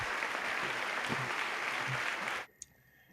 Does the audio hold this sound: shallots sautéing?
no